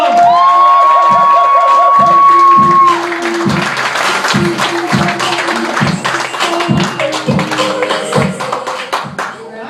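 An audience at a comedy club applauds and cheers a comedian, a dense wash of clapping from a full room with shouts on top, fading slightly as the voice of a host is heard beneath it.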